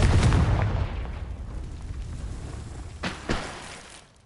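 A Confringo blasting spell explodes in Hogwarts Legacy, a loud deep boom at the start that rumbles away, followed by two smaller sharp bursts near the end.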